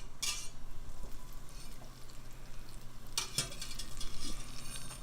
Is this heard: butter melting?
yes